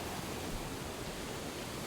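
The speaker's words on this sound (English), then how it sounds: "I heard vicious sounds of crashing waves and roars of an all-crushing storm" Crashing waves and a roaring storm in a video game: a steady, loud, broad rush of surf and wind, unbroken and without distinct crests.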